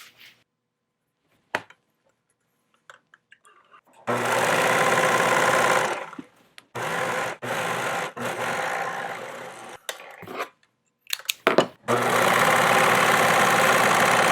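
A sewing machine stitches the side seams of a pair of pants, running loud and steady in long bursts with brief pauses between them. No voices are heard.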